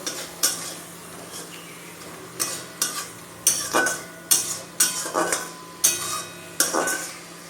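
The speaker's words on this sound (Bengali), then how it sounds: "এবার আমি সামান্য পরিমাণে জল দিয়ে দেব বেশি না খুবই অল্প মশলাটাকে এবার ভালো করে কষিয়ে নেব" Spoon scraping and knocking a pan as masala is sautéed with a splash of water for a potol and prawn curry, about a dozen sharp strokes at a steady pace over a soft sizzle, close and clear.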